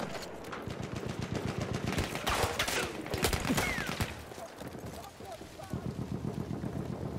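Rapid bursts of gunfire from a Battlefield 1 battle, repeated volleys crackling through most of the stretch with a short lull near the end, mixed with game chatter.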